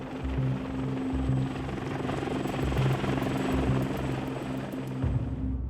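A US Marine Corps military helicopter during an amphibious invasion exercise, its rotor thumping in a steady loud rhythm over a continuous engine drone, close and unbroken throughout.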